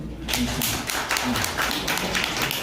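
A seated crowd at a blockchain meetup claps together, a dense patter of many hands that stays fairly loud and even from start to finish, with no voices over it.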